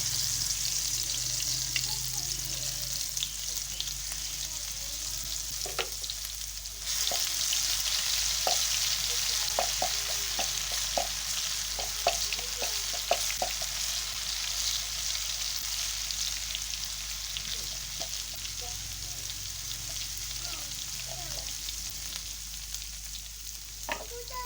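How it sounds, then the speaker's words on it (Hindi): Crushed garlic frying in hot ghee in a pan on a home stove, a steady broadband sizzle throughout with scattered small crackles and pops, growing a bit louder partway through, with no talking. "अब जैसे ये गरम होगा, इसमें हम जो लहसुन हमने कूट के रखा हुआ था वो इसमें डाल देंगे।"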